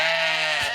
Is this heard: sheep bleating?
yes